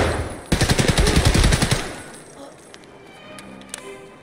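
A fast burst of automatic gunfire in Escape from Tarkov rattles loudly for about a second and a half, then gives way to faint clicks and scattered game noises.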